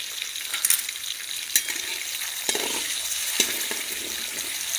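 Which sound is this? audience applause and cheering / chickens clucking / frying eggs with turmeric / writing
frying eggs with turmeric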